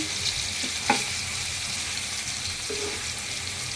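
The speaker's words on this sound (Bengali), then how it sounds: "তাই একটা একটা করে কই মাছ ভাজতে হবে" Koi fish frying one at a time in oil in a wok, a dense continuous sizzle with a sharp pop early on, close and steady throughout.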